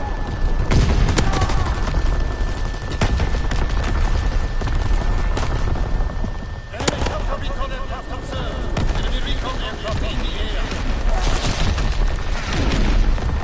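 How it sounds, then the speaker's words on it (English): Artillery barrage in Call of Duty WW2, heavy booming explosions and crashing impacts mixed with rattling gunfire, loud and continuous across the battlefield, with a voice talking over it at times. "Oh, this barrage shit is so lame."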